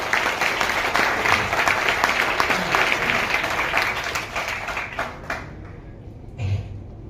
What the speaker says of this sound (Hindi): मैं चाहूंगा एक बार जोरदार ताली होनी चाहिए।